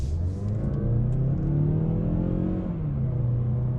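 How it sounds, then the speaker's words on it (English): A 2019 Mazda6 with the non-turbo 2.5-liter engine accelerates, a steady mid-pitched engine hum whose tone climbs smoothly and dips slightly near the end, heard from inside the cabin. "We'll accelerate through here again."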